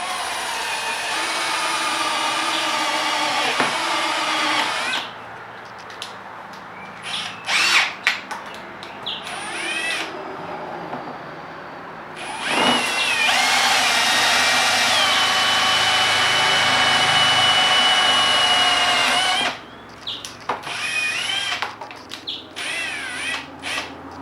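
A cordless Makita power tool runs in long loud whining bursts with pauses between, used while building a homemade pond filter.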